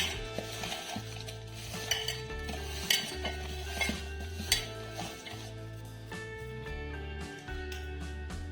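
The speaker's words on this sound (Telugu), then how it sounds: "గ్రైండ్ చేసుకున్న ఆవాల మెంతుల జీలకర్ర పొడిని ఇప్పుడు ఈ ముక్కలకు పట్టిద్దాం మంచిగా కలుపుకోవాలి" Raw mango pieces being tossed with ground mustard, fenugreek and cumin powder for a Telangana-style mango pickle: steady scraping and stirring with light clinks of a utensil against a bowl, close by, over a constant low hum and without speech.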